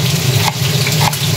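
Onion and meat fry in a pan with a close, continuous sizzle and a couple of soft stirring scrapes, no voices.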